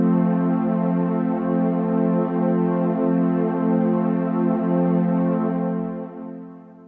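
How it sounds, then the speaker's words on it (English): A slow strings synth preset plays alone as a single sustained chord, smooth and rich in harmonics, swelling gently for several seconds before fading out. "one that I really love is this slow strings preset"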